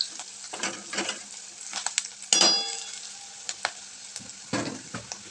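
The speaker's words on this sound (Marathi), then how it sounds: "हिंग छान परतून घेतली आणि त्यामध्ये अर्धा चमचा मी हळद टाकली तेलामध्ये" Asafoetida and turmeric fry in hot oil in a pan, giving soft intermittent sizzles and stirring scrapes with a sharper clatter midway, fairly quiet and close.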